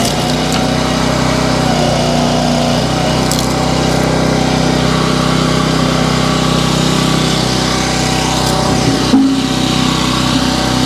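The small engine on a Split Force 9 towable vertical log splitter runs steadily near and loud while splitting hickory with knots, with a brief thump and dip near the end.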